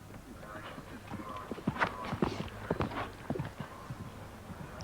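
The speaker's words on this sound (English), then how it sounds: "This is Count the Cost, a very attractive thoroughbred gelding." Hooves of a thoroughbred gelding clip-clopping at a 1993 show jumping qualifier in Busselton, a series of irregular hoof strikes on firm ground, moderately close, with a voice speaking over them.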